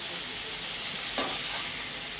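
Pointed gourd with black cumin seeds frying in a little oil over raised heat, a dense, even sizzle throughout with a brief stirring scrape in the middle.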